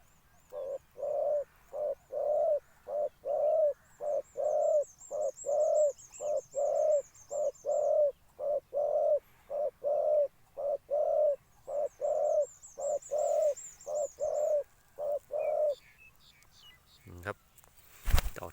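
A dove coos in a steady repeating rhythm, about two dozen low hooting calls close by, with faint higher chirps from other birds and a brief rustle at the end.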